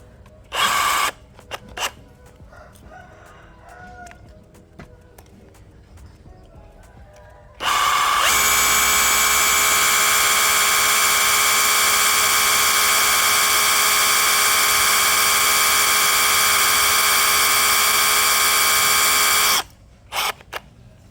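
A cordless brushless Bosch GBH187Li rotary hammer drills into steel, whining steadily and loudly for about twelve seconds after a few brief clicks and short bursts, then stops abruptly.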